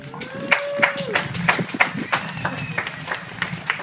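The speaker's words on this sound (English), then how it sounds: "So give them a round of applause, please." Scattered audience clapping at a cancer awareness event, uneven claps with voices talking over them.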